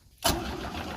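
A 3.0 Mercruiser boat engine cranks over without catching after a moment of quiet, a sustained close, loud churning of starter and engine that never fires into a running idle.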